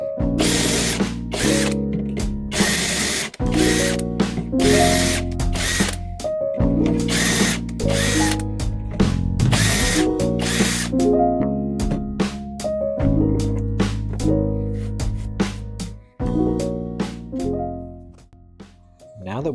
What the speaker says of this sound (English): we're going to drill some holes for some shelf pins